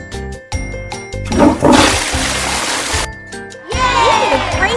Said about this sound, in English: Can you flush the toilet?